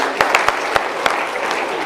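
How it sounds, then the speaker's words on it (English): Audience applause at a motivational speaking event, a steady wash of many hands with a few sharper individual claps standing out, fairly close and loud throughout. "big round of applause for these courageous people"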